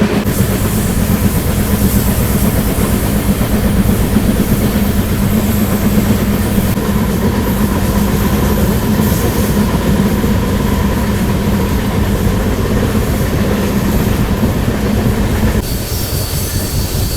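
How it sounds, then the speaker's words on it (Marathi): At night, the Kolhapur–Mumbai special express train rumbles past close by, steady and loud for the whole stretch, with wheels screeching and rolling hard on the rails before easing slightly at the end. "आपल्याला अजून एक क्रॉसिंग पाहायला मिळणार आहे, ती म्हणजे कोल्हापूर मुंबई स्पेशल ट्रेनची"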